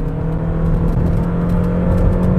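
A Suzuki car engine revving hard at low RPM while accelerating, a loud steady close whirring drone heard from inside the car with no talk.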